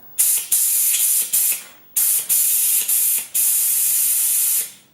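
Compressed air sprays in repeated bursts through the brake lines of a Kawasaki Ninja 1000, clearing leftover brake fluid during a rear master cylinder repair, loud close hissing blasts of about a second each with short gaps between them.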